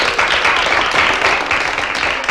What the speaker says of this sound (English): No applause? No applause, I guess. Applause?